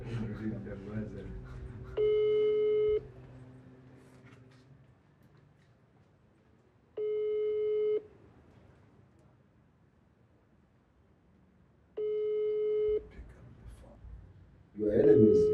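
A WhatsApp call rings out on a phone speaker: three evenly spaced one-second tones about five seconds apart, with people chatting quietly in the background between them.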